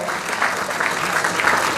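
An audience at a gastronomy fair applauds the event staff, a short burst of brisk, full clapping from a crowd indoors.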